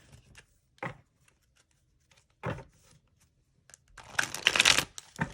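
Several short bursts of tarot card riffling, thin cardstock, sparse at first, then a longer, louder flurry of flapping cards near the end, close by with no talking.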